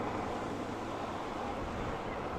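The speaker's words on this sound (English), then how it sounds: "The waves are nice." Ocean waves washing against a rocky shore on a calm morning, heard as a steady, continuous roar of surf with some wind, unbroken for the whole stretch.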